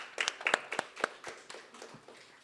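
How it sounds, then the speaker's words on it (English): A handful of people clap for bursary students at an academic award ceremony, a brief sparse burst of fairly quiet, separate claps that quickly tapers off. "we must give them a round of applause"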